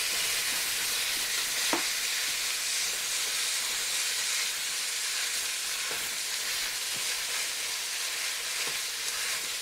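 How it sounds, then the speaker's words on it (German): Minced meat for bolognese sizzles loudly and steadily in a hot, oil-free nonstick pan, a continuous crackling hiss with occasional soft scrapes. "heizen wir jetzt schon die Pfanne hoch auf etwas höhere Temperatur, um das Hackfleisch anzubraten"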